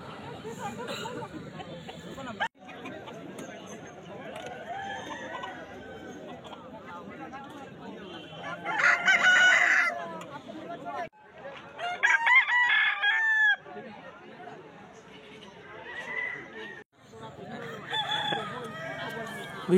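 Roosters crow repeatedly at the Balarampur rooster market in 2025, loud bursts standing out over a steady crowd murmur and clucking fowl, with people talking throughout.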